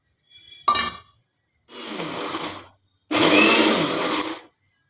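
A kitchen blender purees ripe mango into a paste in three separate bursts, a brief first pulse and then two longer whirring runs, loud and close, with a faint clink at the start.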